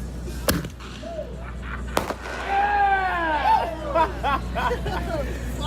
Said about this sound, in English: Yes, Ed, fireworks are indeed the shit